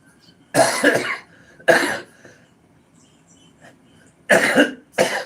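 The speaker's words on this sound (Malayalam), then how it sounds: "ചുമയൊക്കെ വരുന്ന പനിയായിരിക്കും" Four sharp, loud coughs in two pairs, with quiet pauses between them. No one speaks.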